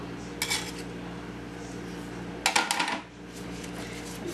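Roasted chile strips are tipped into a bowl with sharp metallic clinks and rattles, one brief burst early and a denser cluster in the middle, over a low steady kitchen hum.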